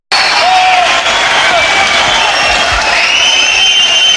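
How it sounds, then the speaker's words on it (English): A 1977 UK wrestling crowd roars and chants continuously to count out a wrestler, a loud, dense wash of many voices that holds steady throughout. "Crowd counting him out a little bit prematurely as Brace drops in on our table."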